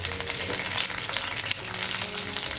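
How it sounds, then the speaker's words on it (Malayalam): Curry leaves dropped into hot oil, crackling and sizzling loudly and steadily at close range with a dense, continuous frying hiss and no voices. "ചൂടായ എണ്ണയിലേക്ക് നമുക്ക് എന്ത് ചെയ്യാം, കുറച്ച് കറിവേപ്പില ഇട്ട് വെക്കാം"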